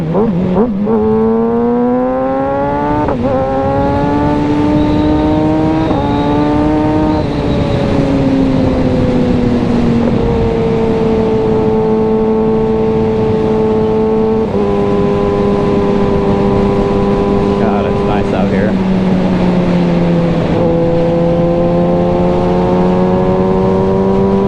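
A 2022 Kawasaki Ninja ZX6R engine howls loud and close as the bike accelerates, its pitch climbing and then dropping sharply at each quick-shifter upshift in a series of rapid gear changes.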